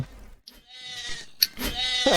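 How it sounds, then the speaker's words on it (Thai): A goat bleats in a Roblox game, a short, clear bleat rising over busy game noise, with brief bursts of other sound around it. "แพะมาแล้ว"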